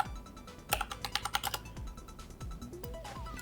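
A password is typed on a computer keyboard, a close, quick run of crisp key clicks in uneven bursts, followed by a few softer scattered taps.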